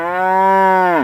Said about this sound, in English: not the cow